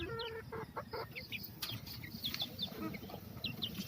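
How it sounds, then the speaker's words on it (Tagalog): Peruvian game fowl chicks under a month old chirp in quick, high repeated peeps, several birds overlapping near and fairly clear, with soft rustling and faint clucking in the background. "Babae lalaki po yan, sisiw ng Peruvian."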